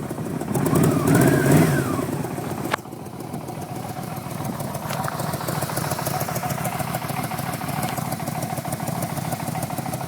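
A 1984 Yamaha Venture motorcycle idles steadily while warming up, with someone speaking over the first seconds before the engine carries on alone, a close, even, rapid pulse.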